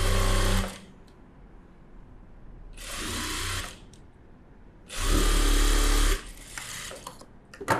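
A sewing machine stitches a blouse front cross seam in three close bursts of fast, whirring rattle, separated by quieter pauses of handling the fabric.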